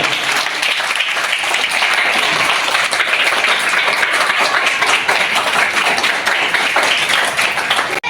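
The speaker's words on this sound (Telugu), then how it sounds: "ఒకసారి సపోర్ట్లు కొట్టండి అందరూ" An audience at a school gathering applauds donors of steel bottles with dense, sustained clapping that stays loud and steady throughout, then cuts off abruptly at the end.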